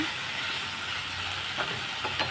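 Masala for mutton chops fries in a pan with a constant close hiss, and a couple of faint stirring scrapes toward the end.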